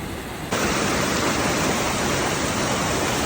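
Mountain stream water pours in a steady, loud, dense rush that starts abruptly and then holds constant, heard close with no voices, on a high-altitude trek near a village.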